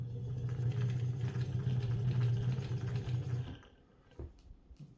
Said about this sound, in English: And then we're ready to wind a bobbin.